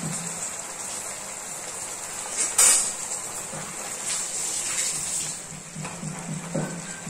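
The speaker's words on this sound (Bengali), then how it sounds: "কাঁচা সর্ষের তেল ঢেলে দেব।" Raw mustard oil hits a hot pan of Bengali food, giving a faint, steady sizzle with one brief louder hiss near the start, then a soft crackle that continues alone.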